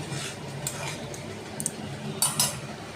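A spatula stirs and scrapes katla fish korma, seasoned with mace, nutmeg and rose water, in a pan. A soft, steady scraping runs throughout, with a few sharper metallic clinks toward the end.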